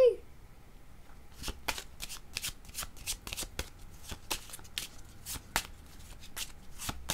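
Tarot cards being shuffled by hand, a steady run of crisp riffling slaps and flicks, close up and fairly quiet.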